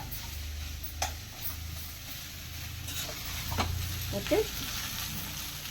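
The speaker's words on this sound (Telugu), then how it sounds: "ఇవి లైట్గా వేగుతుంటాయి." Corn dumplings fry lightly in a pan with a soft, steady sizzle and a few small clicks of a utensil, fairly faint, and a voice briefly says a word.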